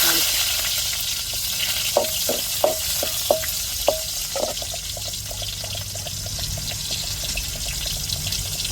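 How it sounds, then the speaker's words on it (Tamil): Onions tempering in hot oil for a crab curry give a continuous sizzle and crackle, with a few sharp ticks of a utensil against the pan near the start. "இப்போ வெங்காயம் தாளிச்சு"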